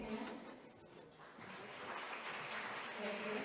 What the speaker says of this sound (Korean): 그럼 박수로 맞이해 주시기 바랍니다